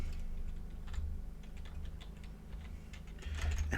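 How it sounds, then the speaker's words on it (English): Bursts of typing on a computer keyboard, quick irregular key taps with a louder flurry near the end, set against a low background hum and no speech. "It helps if I can type."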